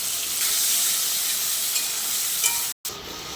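Shrimp fry in a pan with ash gourd and green chillies, giving a loud, steady close sizzle with a brief drop-out near the end.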